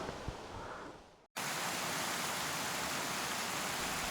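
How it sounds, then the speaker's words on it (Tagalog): Agos River current near a waterfall, a steady broadband rush of flowing water that fills the space evenly after a brief drop to silence, loud and continuous with no talk. "Naririnig ko na yung agos."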